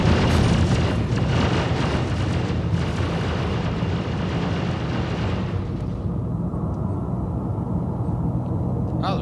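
Turret fire pounding a ship in Star Citizen, a heavy sustained rumbling blast roar that holds loud for several seconds before the upper hiss cuts away, leaving deep low rumble.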